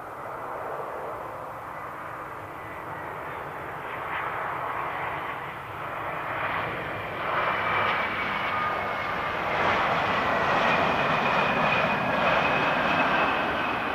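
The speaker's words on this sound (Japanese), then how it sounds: "伊丹空港、ランウェイ32レフト、離陸態勢に入るエンブラエル190。" J-Air Embraer 190 jet airliner entering takeoff on runway 32L at Osaka Itami Airport: a steady engine roar with a rising whine that gradually grows louder and fuller, heard alone at moderate distance.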